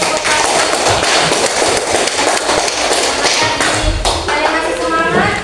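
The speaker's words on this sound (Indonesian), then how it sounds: "Beri aplaus dulu kelompok" A classroom group claps together, a dense and loud burst of many overlapping hand claps that carries on steadily, with voices mixed in.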